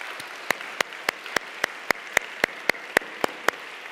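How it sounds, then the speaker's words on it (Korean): A dozen sharp claps from a church worship congregation strike at a steady, even pace, each crisp and distinct, with a soft hiss of background noise between them. "감사와 영광의 박수를 한번 올려드렸으면 좋겠습니다."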